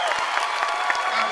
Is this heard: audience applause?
yes